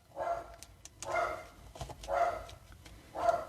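A dog barks four times in a slow, even rhythm, each bark short and moderately distant, with quiet room sound in between.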